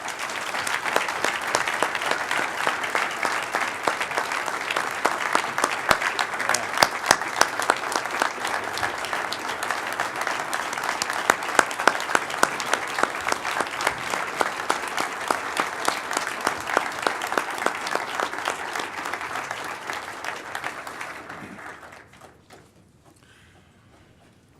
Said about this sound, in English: Please recognize Amber, Tashia, Andy, Lou, and Stanley with another round of applause.